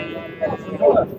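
Sheep at a livestock market in Shahrikhan, Andijan region, give two short bleats close by, one weaker and one louder, over a low background murmur.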